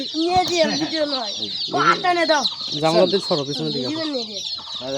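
Tiger chickens of the Hindustani tiger breed cluck in a busy, overlapping flock, loud and close, with repeated rising and falling calls over steady background noise.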